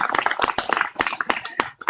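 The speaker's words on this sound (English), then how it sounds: "Thank you for applauding my weirdness" Audience at a St. Louis Renaissance Faire street show applauding, a dense run of hand claps with sharp irregular bursts, close and fairly loud, fading near the end.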